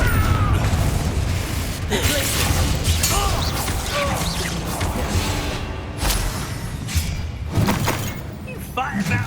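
Confringo fire-blast spells explode repeatedly during Hogwarts Legacy combat, dense booms and crashes layered with battle clutter and game music, while character voices shout over the fighting.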